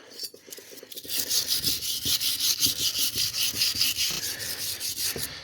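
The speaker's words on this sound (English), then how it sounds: "all you're trying to do is get some surface rust off and anything that would prevent the pulley from going on" Surface rust being scrubbed off a pulley mounting surface on a John Deere 200 series garden tractor: steady, rhythmic back-and-forth rubbing strokes, close and fairly loud, with no talking.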